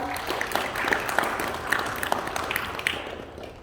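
Clapping crowd at a school ceremony welcoming a first-grader as a new pupil, a continuous even wash of applause with scattered sharper claps, sustained throughout and easing slightly at the close.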